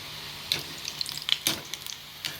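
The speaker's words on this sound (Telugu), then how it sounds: "ఫ్రెండ్స్, ఉడుకుతున్నాయి పునుగులు" Punugulu, small Telugu batter fritters, fry in a pan of oil, giving a soft bubbling sizzle broken by scattered light pops and crackles.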